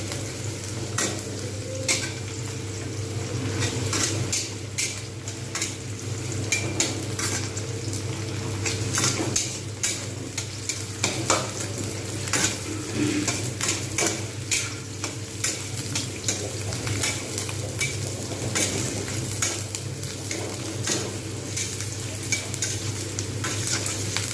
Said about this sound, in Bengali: কড়াতে যে তেলটা রয়েছে এতে দিয়ে দেবো পেঁয়াজ পেঁয়াজটাকে আমি কিন্তু খুব ভালোভাবে ভেজে নেবো